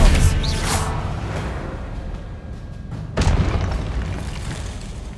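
Confringo spell explosions boom in Hogwarts Legacy, a heavy blast at the start and a second sharp impact about three seconds later, each trailing into a rumbling decay.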